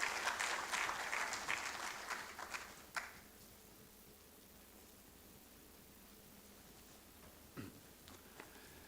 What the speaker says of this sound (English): Please, a round of applause as he comes.